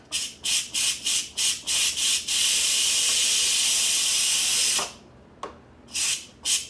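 Short bursts of hissing steam from an Instant Pot pressure cooker come in a quick rhythmic series, then one long continuous hiss, followed by a few more brief spurts, close and loud.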